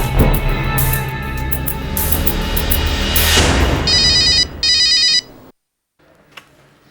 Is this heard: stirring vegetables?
no